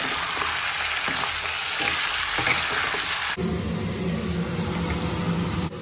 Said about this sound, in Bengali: আলু ভাজা তেলটার মধ্যেই আমি চিকেনগুলোকে ভেজে নেব।